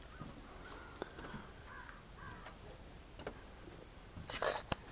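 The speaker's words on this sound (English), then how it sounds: "can hear the birds calling to each other, the ravens" Early-morning ravens calling to each other, several scattered caws at varied distances, the loudest near the end, over a quiet outdoor background with no talk.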